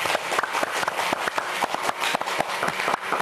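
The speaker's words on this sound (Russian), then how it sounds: "поддержим уже... аплодисментами." A studio audience on the TV show 'Dobry vecher, Gomel!' breaks into rhythmic, fairly loud clapping after a smoothie is made. Distinct claps repeat steadily in an even beat for the whole stretch.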